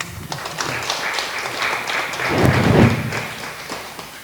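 Applause from a church congregation in a Catholic parish hall, a steady mid-level patter of many hands clapping that swells for a moment and then eases off, with no talking over it.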